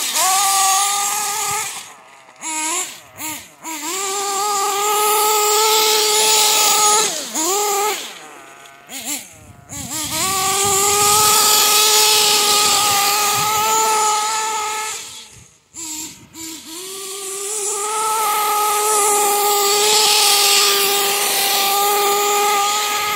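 A Kyosho Neo ST 3.0 nitro RC car engine screams at high revs, its pitch swooping up and down as the throttle is blipped, with brief drops and pauses between loud, sustained runs.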